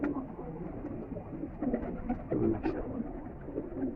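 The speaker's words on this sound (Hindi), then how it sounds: "उस्ताद जी के घर का ये फिरोजपुरी कबूतर है जी" A Ferozpuri pigeon kept at a pigeon fancier's home in Lahore coos softly in repeated low, throaty rolls against a quiet background.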